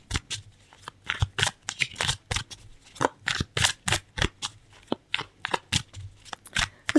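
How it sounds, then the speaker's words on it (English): Tarot cards are shuffled by hand close up, a string of crisp riffling bursts and flicks repeating in an irregular rhythm with brief pauses between them, with no voices. "As I'm shuffling the cards, say your name out loud in your head."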